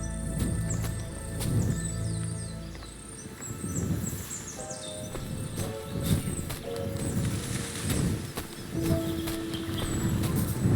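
A horse whinnies and snorts amid clip-clopping hooves in the woods in the video game Kingdom Come: Deliverance 2, with birds chirping faintly in the background over a steady ambient bed.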